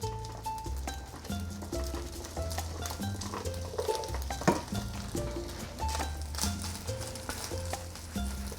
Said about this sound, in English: the objective is to fry off in batches the meat we cut in cubed